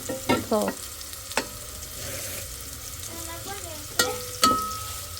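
Pieces of chicken sizzle and spit in hot oil, with sharp clatters of a utensil stirring and scraping the pan, close and fairly loud.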